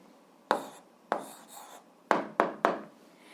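Pen or pencil strokes on paper while writing down an algebra answer, several short scratchy bursts in an irregular rhythm, close and fairly quiet, with no talking.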